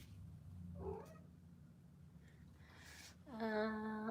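A house cat meows twice, close by: a short chirp early on and then a longer, rising, drawn-out meow near the end, with quiet room noise between.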